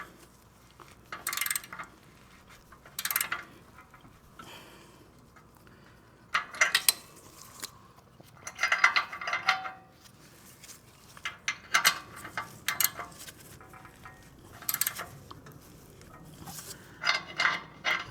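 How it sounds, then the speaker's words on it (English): Repeated short ratcheting bursts from a hand ratchet snugging down a car oxygen sensor, coming in brief clicking spells separated by pauses, close and fairly quiet with no talk. "Then go ahead and grab your ratchet."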